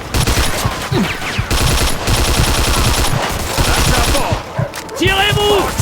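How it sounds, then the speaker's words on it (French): Dense automatic gunfire rattles nonstop in a Mafia II shootout, loud and close, with rapid bursts overlapping into a continuous barrage for several seconds and a brief lull near the end. "On s'en fout, continue de tirer!"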